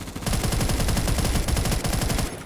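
A rapid-fire gun in a video game sounds a fast, continuous burst of sharp, evenly spaced shots, loud and close, lasting about two seconds before stopping abruptly.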